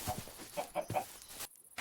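Chickens in a modded Minecraft birch forest give a few soft, quick clucks, quiet and close, and the clip ends in a short silence.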